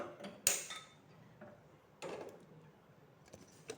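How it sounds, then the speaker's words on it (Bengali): Gas stove being lit in a home kitchen: a sharp metallic click from the knob and igniter, then a second click burst about a second and a half later, with faint clattering in between against a quiet background. "এই দেখো গ্যাস জ্বালাচ্ছি"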